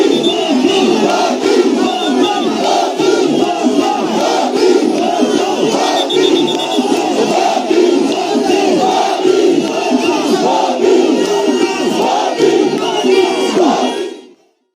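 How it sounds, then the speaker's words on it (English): A huge, jubilant crowd at a Bobi Wine campaign rally roars, cheers and chants continuously and loudly, a dense wall of voices that cuts off abruptly at the end. "jubilant crowds flooding Bobi Wine's rallies across the country"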